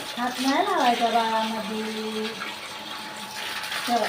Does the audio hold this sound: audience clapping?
no